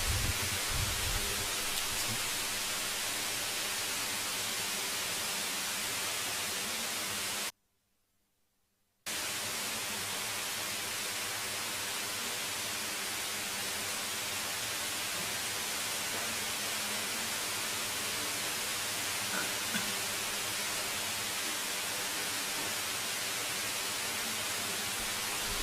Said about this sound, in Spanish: Está lloviendo, ¿no? Fuerte.